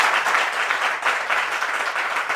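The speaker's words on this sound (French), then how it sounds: "on va l'accueillir avec des applaudissements, s'il vous plaît" A studio audience welcomes a guest onto a French talk show with dense, steady applause that holds at an even level throughout the short stretch.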